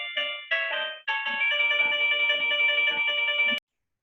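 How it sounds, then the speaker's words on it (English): A phone ringtone plays loud and close: two short melodic bursts, then a longer sustained electronic tone that cuts off abruptly, with no talking over it. "excuse that ringing"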